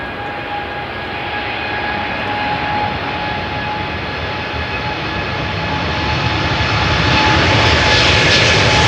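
A TUI Boeing 787-8 Dreamliner departs Schiphol, its jet engines a loud sustained roar with a steady whine that gradually builds and brightens as it passes close by.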